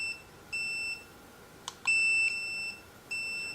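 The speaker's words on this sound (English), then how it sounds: "That is the tone on the collar as well." Remote dog training collar from a wireless dog fence system giving a series of steady electronic tones, three sustained beeps separated by brief clicks, fairly clear against a quiet background.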